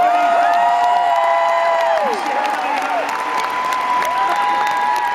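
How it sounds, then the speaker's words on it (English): Arena crowd at a big musicals concert night in Manchester breaks into loud, sustained applause and cheering, with whistles and whoops riding over a dense wall of clapping throughout. "Give it a round of applause."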